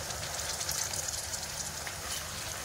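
A little water splashes and sizzles into a hot pan holding tomato paste for dhaba-style egg curry, a soft continuous hiss with faint bubbling.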